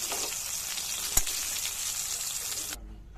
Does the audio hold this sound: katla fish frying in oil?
yes